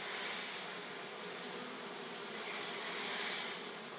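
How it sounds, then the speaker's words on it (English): A dense, steady buzzing hum of many Japanese honeybees fluttering together, swelling and easing like a wave, close and continuous with no talking. "They all make a flutter sound together, like a wave."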